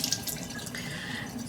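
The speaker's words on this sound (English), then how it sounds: "So we're going to give these pears a good wash." Pears are washed under a running kitchen tap, with water splashing steadily and close over the fruit in a sink for a brief moment, no voices present.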